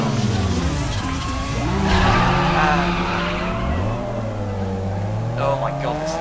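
A car drifts through corners in Need for Speed Underground 2, its engine droning and revving steadily while tires squeal and skid. Someone talks throughout, over the loud, continuous racing sound.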